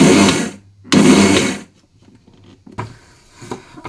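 A mixer grinder blends prasad with sugar in short pulses: two loud whirring bursts of about half a second each, then quieter clatter and rattling from the jar in between.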